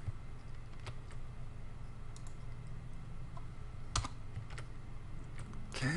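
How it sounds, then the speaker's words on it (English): Typing on a computer keyboard, with sparse, scattered keystroke clicks over a steady low room hum. The typing is fairly faint and has no voices. "you can just type this right into the editor"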